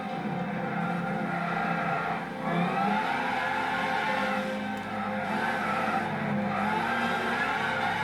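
A race car in Gran Turismo 6 drives a wet track, its engine whirring continuously with swelling pitch and tire hiss as it corners, a steady mid-level drone without speech.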